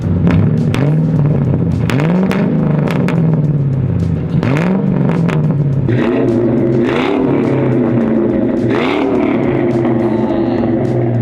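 A loud drift car engine revs repeatedly with a raw, throaty exhaust roar, muffler and one of four catalytic converters removed, rising and falling in bursts, close by with no talking.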